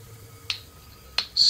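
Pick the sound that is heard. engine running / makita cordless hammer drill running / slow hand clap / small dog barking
slow hand clap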